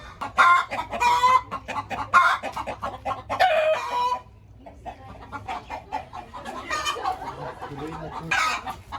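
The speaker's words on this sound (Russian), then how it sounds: "Сразу идем в курятник." Chickens cluck busily in a village chicken coop, and a rooster crows loudly close by several times. The bird sounds are dense and overlapping, with a brief lull in the middle.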